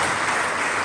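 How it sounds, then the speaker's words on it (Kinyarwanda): Audience applause from a crowd at an evangelistic church gathering, a dense, steady wash of clapping. "reka tumukomera amashyi Imana imumugisha"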